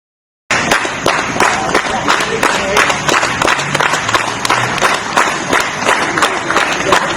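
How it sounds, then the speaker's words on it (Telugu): Local flood victims clap together for soldiers carrying out rescue work, a dense, continuous crowd applause with sharp hand claps, fairly loud and steady throughout. "స్థానికులు చప్పట్లు కొడుతూ అభినందించారు"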